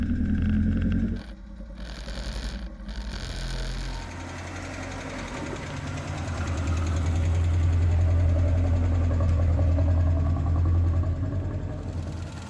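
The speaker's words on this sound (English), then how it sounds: "For an engine that was seized and sat without a carburetor for over a decade, we're pleased with how it runs." A Triumph Herald with a Spitfire 1296 engine, once seized and left without a carburetor for over a decade, fires up after a brief false start and settles into a steady, loud, close idle that swells and runs on alone.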